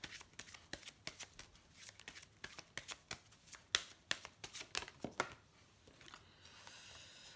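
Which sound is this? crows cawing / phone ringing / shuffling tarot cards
shuffling tarot cards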